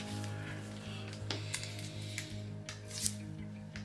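An iPad Pro 2021 keyboard is unboxed, with soft scratchy rustles, snips and taps of packaging being handled close by over a steady low electrical hum, no talking.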